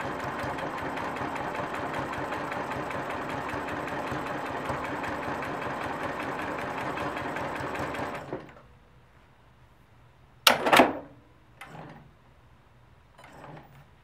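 Quilting a bunny hop stitch pattern on a sewing machine: a steady, loud run of rapid needle chatter and motor whirr for about eight seconds, then it stops, followed by a few sharp clicks and handling thumps.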